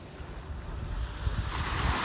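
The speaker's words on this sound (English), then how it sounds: "Beautiful, awesome waves" Ocean waves breaking at a beach at sunset, a broad low rushing roar that swells toward the end, mixed with wind noise on the microphone.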